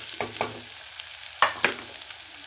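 Halved, deseeded green chilies frying in a pan, a soft steady sizzle broken by a few sharp stirring scrapes and clicks, close by with no talk.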